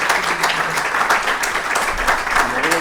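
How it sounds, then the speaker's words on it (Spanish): A crowd applauding steadily throughout, dense clapping that fills the room, with a voice briefly audible over it. "un aplauso por favor"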